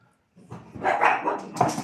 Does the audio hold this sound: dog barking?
yes